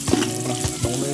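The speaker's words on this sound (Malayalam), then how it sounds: "ഞാൻ പറഞ്ഞ ഒരു 3 സവാള ഇട്ട് വരട്ടെ" Onions sauté in hot oil for a birthday biryani, a constant bright sizzle broken by a few quick scraping stirs of the spoon, close up with no voices.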